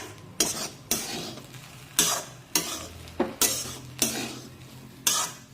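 A utensil scrapes and stirs rice with chopped coriander in a pan, about eight sharp strokes at an uneven pace over a faint sizzle, no talking.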